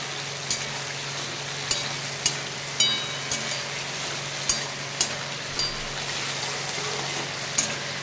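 Potatoes frying in oil rendered from fish, a steady close sizzle punctuated by regular sharp clicks and scrapes of a utensil against the pan, with no voices.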